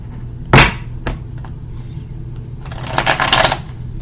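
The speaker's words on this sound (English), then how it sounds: "They're not the easiest cards to shuffle." Tarot cards are shuffled by hand in a few bursts: a sharp snap, a lighter tap, then a quick riffling flutter of stiff cards, close and fairly loud.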